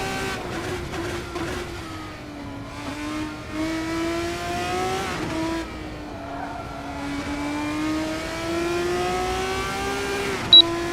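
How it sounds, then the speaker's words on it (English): A Formula 1 racing car engine in the F1 24 video game revs and shifts, its high whining pitch sweeping up and down steadily, loud and continuous, with a sharp click near the end. "engine sounds as if it's in front of you rather than behind you"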